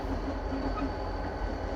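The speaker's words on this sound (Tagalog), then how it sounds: "At dyan sa side ko na yan may dumadaan na tren." A train rumbles steadily past a pickup in downtown Minneapolis, Minnesota, as a loud continuous low roar with faint wheel clatter, with no talking.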